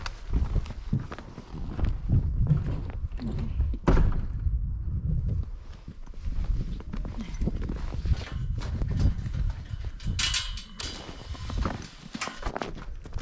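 Horses walking into a snowy farm barn, hooves clip-clopping in a steady, fairly close rhythm over a busy, rumbling background, with a sharp knock near the four-second mark.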